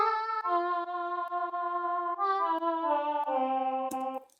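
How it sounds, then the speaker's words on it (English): A synth choir pad sings a smooth, sustained melody of gliding notes, steady and fairly loud, with no other sounds, ending in a quick cutoff. "Then I added some synth choir to it."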